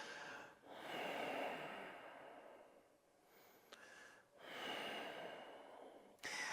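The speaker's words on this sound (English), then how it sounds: "that breathing, kind of breathing through a mask sound" Two long, hoarse ujjayi breaths drawn slowly through a constricted throat, each a rushing, ocean-like hiss, close and steady with a short pause between.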